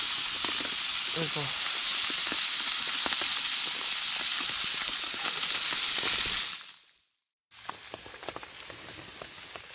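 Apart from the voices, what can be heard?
small sunfish frying in a pan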